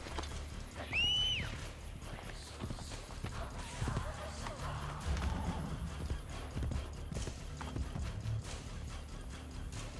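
Horse hooves clip-clop at a steady walking pace in the video game Assassin's Creed Brotherhood, with a horse's whinny near the start and a faint voice talking underneath.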